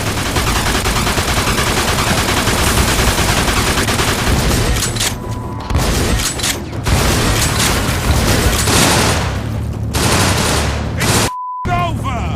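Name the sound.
gunfire shootout in video game Mafia 2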